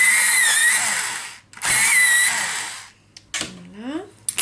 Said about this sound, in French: je vais tailler mes crayons puisqu'ils ne sont pas taillés